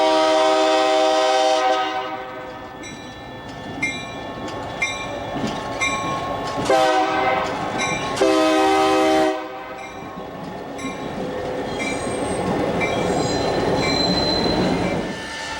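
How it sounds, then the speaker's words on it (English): A freight train led by a pair of Southern Pacific GP50 diesel locomotives rumbles past at Stockton with steady engine drone, a horn blast midway, and metallic wheel squeal and clatter throughout, fairly loud and close. "A pair of consecutively numbered Cascade Green GP50s lead their bare table train off of the Fresno sub"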